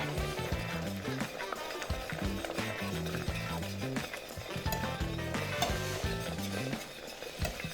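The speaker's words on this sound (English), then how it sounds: "it's really bubbling here, really boiling. So we want to whip that up" A whisk scrapes and churns rapidly through a bubbling pot of cream of broccoli soup, a steady stirring clatter with music playing underneath.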